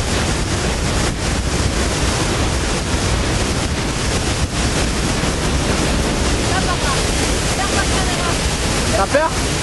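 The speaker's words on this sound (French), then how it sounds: "Il vient de pleuvoir des cordes. Donc la cascade est pleine," A full waterfall swollen after heavy rain roars in a steady, close, unbroken wash of rushing water from start to finish, with no pause in the torrent.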